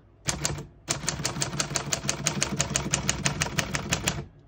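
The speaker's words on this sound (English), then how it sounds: "all the keys type nice and none of them skip or stick" Rapid clacking of a 1947 Smith-Corona Clipper portable manual typewriter, a short burst then a steady run of about twenty sharp keystrokes, close and clear with no voices.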